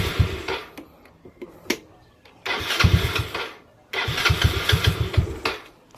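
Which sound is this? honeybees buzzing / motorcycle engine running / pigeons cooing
motorcycle engine running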